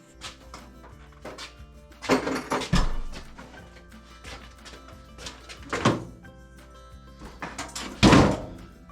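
Big, heavy drawers filled with stuff are hauled out, giving a few loud wooden thunks and bumps among quieter scraping and shuffling.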